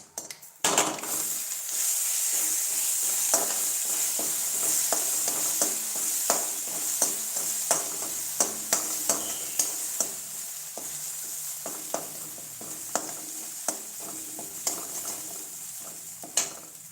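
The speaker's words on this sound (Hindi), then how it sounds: "पूरा मटर को डाल के अच्छे से भून लेते हैं, पका लेते हैं" Ground peas frying in a pan, a bright continuous sizzle under repeated clicks and scrapes of a utensil stirring against the pan, close and steady.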